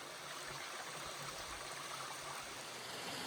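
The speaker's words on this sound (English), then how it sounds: "I found the beginning of the waterfall structure I saw on Google Earth" Mountain creek water near a waterfall rushes in a steady, even wash of sound, with soft gurgles and no voices over it.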